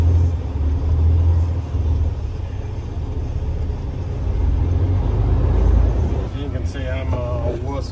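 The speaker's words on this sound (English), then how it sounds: "Now we're backing up." A farm truck backs up during soybean harvest, its engine a steady low rumble close by that swells toward the end, with a voice speaking briefly over it at the finish.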